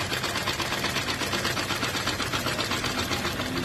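Electric sewing machine running a continuous stitch along the very edge of the fabric while attaching a neck piece, a dense, steady, fast mechanical whir, close and unbroken throughout with no voices.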